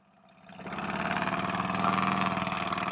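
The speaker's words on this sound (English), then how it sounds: "It's just a motorcycle." A motorcycle engine idling and then revving up, starting quiet and swelling to a steady, loud, rough drone that holds with a slight pulsing throb, heard close with no talking.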